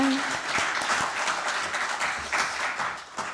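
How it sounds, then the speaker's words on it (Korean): Seminar audience applauding steadily, a dense sustained round of clapping throughout, fairly loud and close, with a bit of voice near the start. "박수 한번 주시기 바랍니다."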